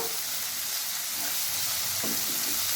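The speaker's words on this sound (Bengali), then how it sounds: "পেঁয়াজটা আমি হালকা ভেজে নেব" Chopped onion sizzles in a pan with melted sugar over medium-low heat, a steady close hiss with light stirring scrapes near the end.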